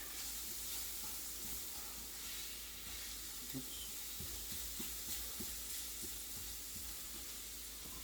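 Ground beef hamburger fries in a pan on slightly lowered heat, a faint, steady sizzle running throughout with scattered soft taps as the meat is broken up.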